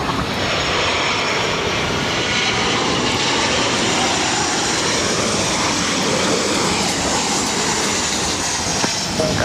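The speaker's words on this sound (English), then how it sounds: "This is Southwest Airlines 1460 coming in from Oakland on a 737-700." A Southwest Airlines Boeing 737-700 arriving from Oakland and landing at LAX, a loud continuous engine roar and broad rushing noise holding steady and close throughout.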